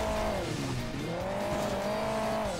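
A motorcycle engine in the Hill Climb Racing 2 video game whines steadily and loudly, its pitch dipping briefly before climbing and holding.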